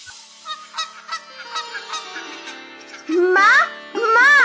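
Ducks honk and quack loudly at close range in a rural Bengali household setting, with a series of short calls followed by louder, longer honks near the end.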